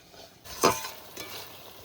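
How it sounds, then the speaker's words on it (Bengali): Goat meat hits hot oil and spices in a pan for a curry with green jackfruit, giving one brief, fairly faint burst of sizzling that fades to a soft fry. "মশলায় তেল ছেড়ে দিয়েছে এবার মাংস দিয়ে দেবো"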